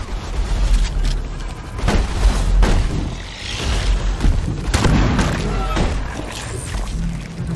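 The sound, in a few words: grenade explosion in video game Deep Rock Galactic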